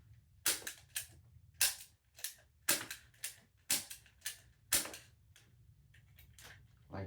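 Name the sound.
realistic Nerf shotgun being shot, sometimes failing to fire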